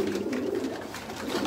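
Sialkoti Bateray pigeons cooing steadily and close, a continuous low throaty murmur through the brief moment, no voices.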